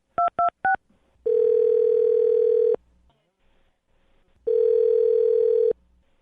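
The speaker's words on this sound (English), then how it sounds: "Curtis, I'm going to dial the phone number right now and see if we can get her on the phone" Three quick touch-tone dialing beeps, then a steady telephone ringback tone sounding twice with a pause between, loud and clear with no talking, as a morning radio show calls a listener.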